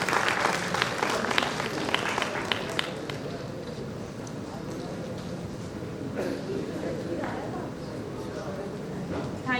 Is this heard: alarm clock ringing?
no